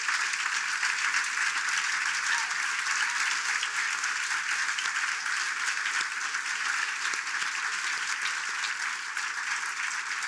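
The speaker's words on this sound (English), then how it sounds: "I want us to give them a round of applause" Steady, dense applause from a large audience at a rally in an arena in Raleigh, continuous and even throughout with no voices standing out.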